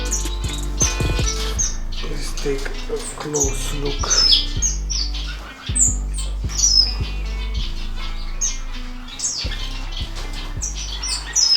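Gouldian and cutthroat finches chirp and tweet in an indoor bird room, a busy overlapping chorus of short high calls with occasional wing flutters, while a person briefly speaks over it.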